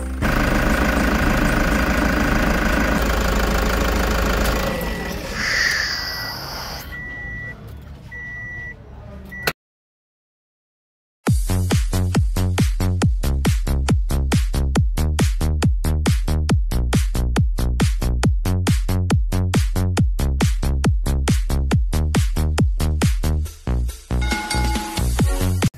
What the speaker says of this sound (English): This video is to show how we troubleshoot an engine sucking sound after turned on.